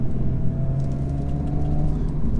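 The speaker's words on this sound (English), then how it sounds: "That 2000 to 4000 RPM part of the rev band is lovely in this. It's just that brrrr." A 2017 Audi S4 engine drones steadily under load while driving, a continuous low rumble with a sustained hum that holds through the stretch, close and fairly loud inside the cabin.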